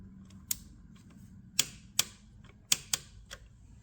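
A bolt on a Honda Accord engine is tightened with a torque wrench, producing several sharp, isolated metallic clicks at irregular intervals, close and crisp against a quiet background.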